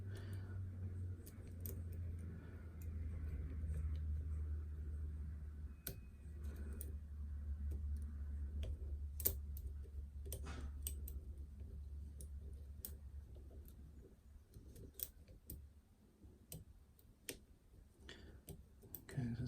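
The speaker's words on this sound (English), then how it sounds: "And a little bit of a click on that one then." Faint scattered clicks and ticks of a lock pick working an ABS cylinder lock, soft metallic taps spaced irregularly over a low background hum.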